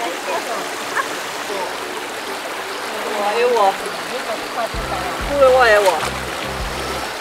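A mountain river at a forest campsite in Kyoto's Keihoku area rushes and splashes steadily throughout, a broad close wash of water, while people talk casually over it.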